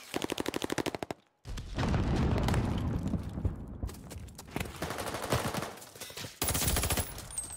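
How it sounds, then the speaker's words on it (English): Rapid bursts of automatic gunfire rattle in a video game, broken by a short silence, then a loud grenade blast and dense sustained shooting and explosions with heavy rumbling in the mix. "Throwing grenade."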